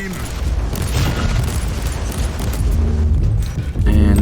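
A heavy boom from an explosion in Warhammer 40,000: Inquisitor, a loud, close rumbling blast amid a dense churn of combat noise, with a second burst of impacts near the end.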